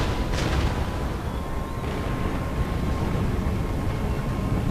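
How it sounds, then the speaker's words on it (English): Cannon fire in the Empire: Total War battle game, a dense rumbling barrage with a sharp boom near the start and a second burst around two seconds, over constant loud battlefield din. "No casualties from the cannon fire"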